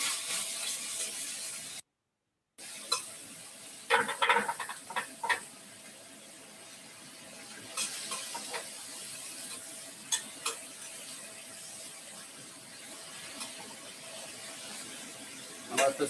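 Stir fry sizzles steadily in a pan during a cooking class, with a constant frying hiss and intermittent clacks and scrapes of stirring, fairly close, with occasional faint voices.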